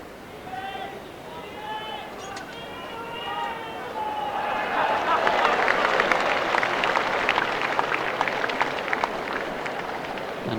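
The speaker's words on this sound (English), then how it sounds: "if you hear applause which doesn't appear to be merited by what you see in this match, then obviously it's because there are other matches taking place" Distant applause rolls in from other matches on nearby greens at the 1984 World Singles Final bowls between Peter Belliss and Willie Wood, swelling steadily and continuing to the end as a broad crowd rustle after brief talk at the start.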